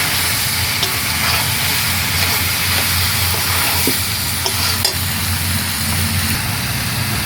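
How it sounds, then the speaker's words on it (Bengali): Goat meat sizzles and fries in rendered goat fat in a pan, a dense, continuous crackle with occasional stirring clinks, close and fairly loud, with no talking. "পাঠার চর্বি দিয়ে আমি গাছ পাঠাটাকে ভালো করে কষিয়ে নেব এইবারে তেল বেরোবে ঝর করে"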